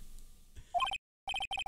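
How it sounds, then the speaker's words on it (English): Electronic phone ringtone from the Phoenix Wright: Ace Attorney video game, a quick bright chirping melody in two short bursts split by a gap, loud and close after quiet background. "Why is that our ringtone?"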